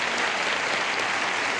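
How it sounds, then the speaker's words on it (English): Studio audience at a 1978 television game show breaks into loud, dense applause, a continuous roar of many hands clapping with no voices over it. "Applause, applause, applause."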